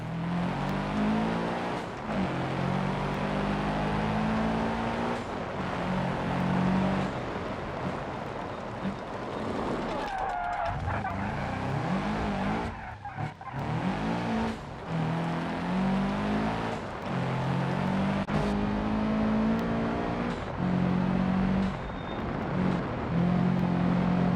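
A car in the BeamNG driving game runs continuously with steady engine drone, shifting revs and gear changes, with a rougher patch of rumbling midway through, close and fairly loud throughout.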